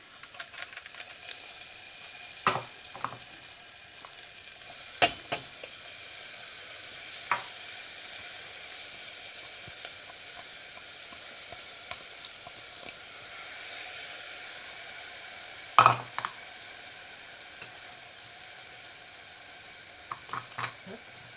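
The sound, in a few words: onions frying in a pan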